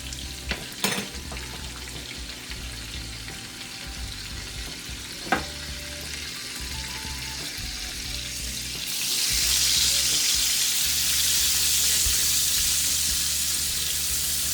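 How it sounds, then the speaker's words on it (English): Flour being whisked into melted bacon grease in a pot for seafood chowder gives a steady close sizzle, broken by a few sharp whisk knocks, then grows louder and hissier partway through. "we'll add our 1/4 cup of flour, and we'll continue whisking for 3 to 5 minutes"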